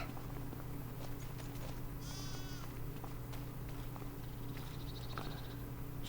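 Sheep on a farm with stored hay give a couple of short bleats, one midway and a fainter one near the end, over a steady low hum of background noise.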